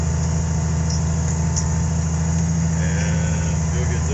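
A steady, low tractor engine idle rumbles continuously throughout, unchanging in pitch, with faint background noises over it.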